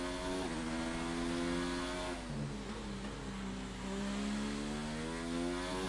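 An F1 car in a racing game at the Singapore circuit accelerates hard, its engine whine climbing steadily through the gears with one brief dip at a shift, loud and continuous with no talking.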